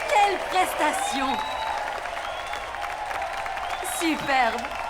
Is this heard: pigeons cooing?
no